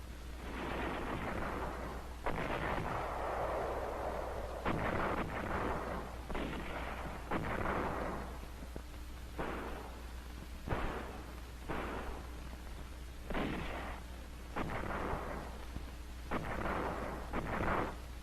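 Artillery bombardment recorded during the 1949 Saipan battle: heavy blasts boom again and again at irregular intervals over a constant low hum and hiss from the old film soundtrack.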